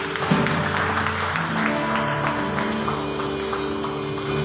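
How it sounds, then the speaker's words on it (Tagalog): A church congregation at a Sunday worship service applauds, a dense continuous clapping over sustained music tones, steady and fairly loud throughout. "Bigay po natin ang malakas sa palakpak sa ating Diyos."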